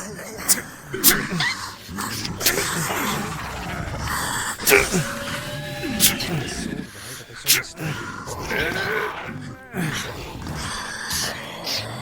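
A dog in an undead-fighting fantasy game barks and whimpers in short bursts amid busy combat noise, with someone talking over it.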